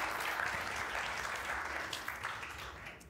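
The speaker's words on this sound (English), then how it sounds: "Let's give them another round of applause" An audience at a keynote roundtable on queer banned books gives sustained applause, a dense, continuous patter of many hands at steady loudness that tapers slightly at the end, with no talking over it.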